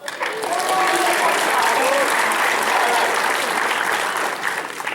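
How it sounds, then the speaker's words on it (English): An audience at a Megacon Orlando convention panel claps steadily, a loud, dense burst of clapping with some whoops and voices mixed in before it begins to taper at the end. "you can clap for that"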